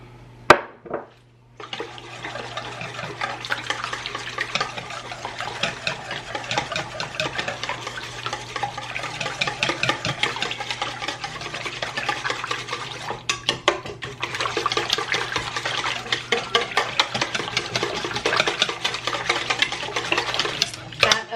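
A spoon stirs cake batter with vanilla extract in a bowl, a steady scraping, churning rhythm that runs for about twenty seconds close up, alone with no talking, briefly pausing partway through.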